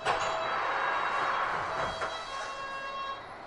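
London Underground Hammersmith & City line train running between stations, a steady rumbling, whining hum with faint tonal whistles, continuous and fairly loud throughout.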